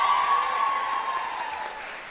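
Applause from the audience at a high school choir pops concert, a dense wash of clapping that fades gradually over a couple of seconds, heard at a moderate distance.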